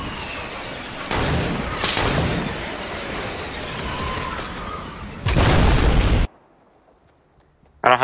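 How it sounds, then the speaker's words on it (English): A guided missile explosion in a duos video game: a heavy roaring blast with booming bursts and a sustained rumble, a second loud burst near the end, then a sudden cut to near silence. "Hold up, let me hit that guided missile."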